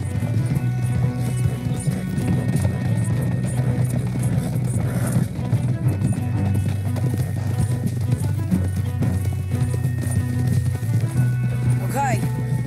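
Horses galloping in the video game Red Dead Redemption, a steady rapid clip-clop of hooves running continuously with a low rumble and game score underneath, with a brief whinny near the end.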